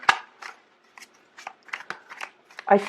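Tarot cards are shuffled and drawn, making quick papery flicks and soft snapping riffles in an uneven rhythm at close range.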